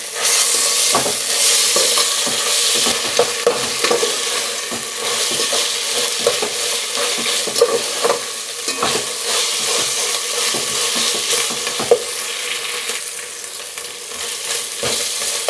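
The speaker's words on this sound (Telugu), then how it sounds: "ఈ అల్లం వెల్లుల్లి కూడా పచ్చివాసన పోయేలాగా వేయించుకోవాలి" Ginger garlic paste frying with onions for egg biryani, a steady loud sizzle with spoon stirring and scraping against the pan throughout.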